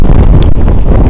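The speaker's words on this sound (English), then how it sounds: "Very windy." Strong wind roars steadily across a choppy lake in Yellowstone, buffeting the microphone with loud, continuous rumbling gusts and no pauses.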